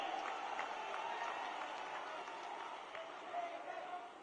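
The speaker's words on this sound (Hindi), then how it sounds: "सभी लोग ऐतिहासिक तालियों से राहुल जी का स्वागत करें" A crowd claps at an outdoor political rally in Shajapur, Madhya Pradesh, a broad, fairly distant sustained applause with scattered sharper claps rising and falling over a few seconds.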